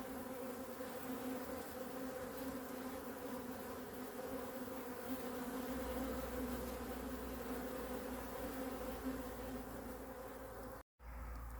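Honey bees hum steadily beside a beehive, a dense continuous drone of many wings close by with no talk, fading abruptly just before the end.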